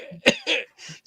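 A voice imitates a skeleton's raspy, hacking cough in several short bursts, close and dry, with brief pauses between them.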